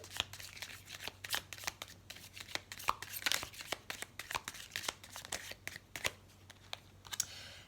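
Oracle cards being shuffled by hand, a run of quick, crisp riffling slaps and flicks repeating close up, with no voices over them.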